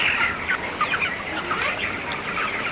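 Dense chorus of many chickens clucking and chattering together on a poultry farm, a steady crowded barn murmur with occasional sharper calls, no talking.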